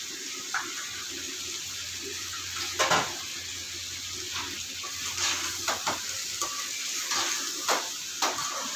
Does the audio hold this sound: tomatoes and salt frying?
yes